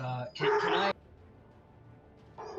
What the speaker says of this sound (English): I guess he's waiting on the dogs to calm down.